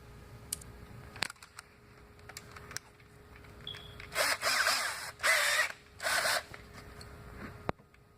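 An electric drill with a 5/16 wood bit whines in three short bursts, each lasting about a second, boring holes in wood after some quiet clicks and handling noises nearby.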